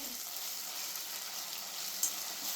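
A mango prawn curry sizzles in a pan while being stirred, a soft, steady frying hiss close by with a faint clink near the end.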